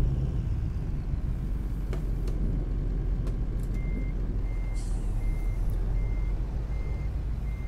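A simulated truck backing up with a trailer in Euro Truck Simulator 2: a constant low engine rumble, with a few faint clicks, then evenly spaced reversing beeps starting about halfway through and continuing to the end.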